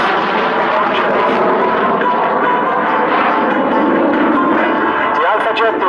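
A French Air Force Alpha Jet roars through a solo air display, its jet engine giving a loud, continuous broadband rush that stays steady and close for the whole stretch, with a commentator's voice audible over it.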